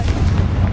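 A Confringo blast spell from Hogwarts Legacy makes a short, heavy, booming burst, loud and low like artillery fire, filling under a second with dense rumble.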